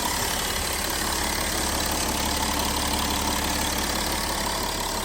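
A Volkswagen Touareg 3.0 engine idles steadily and evenly, a constant mid-low hum with no variation, close by and alone.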